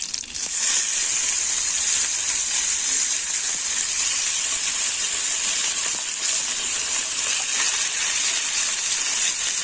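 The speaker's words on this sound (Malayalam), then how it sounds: "നമുക്കിതിലേക്ക് മത്തി വെച്ച് കൊടുക്കാം." Sardines drop into hot coconut oil with curry leaves and fry with a loud, bright, steady sizzling hiss that carries on unbroken, with no voices.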